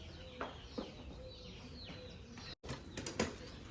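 Bursts of wing flapping from several pigeons taking off and flying nearby, with soft whooshes and a few faint chirps.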